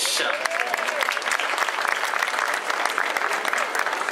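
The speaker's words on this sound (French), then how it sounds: "qui récompense les 3 lauréates sous vos applaudissements, s'il vous plaît" Audience applause for the podium winners at the Chrono des Nations cycling race in Les Herbiers, a dense, steady clatter of many hands clapping throughout, fairly close and sustained without a break.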